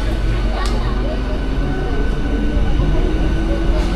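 A passenger train pulling out of Hedia station on the Tamluk–Digha line in West Bengal, heard from on board as a loud, continuous rolling rumble with background voices.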